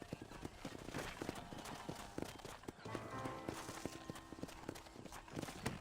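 Hooves clip-clop at a steady trot over a dense game soundtrack, with a brief horse whinny partway through, in the video game Red Dead Redemption.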